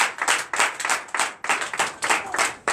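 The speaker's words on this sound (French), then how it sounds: "Donnez l'acclamation à Jésus." Worshippers at a Sunday church service clap in a quick, uneven burst of distinct handclaps, a small group clapping close by with sharp individual strikes.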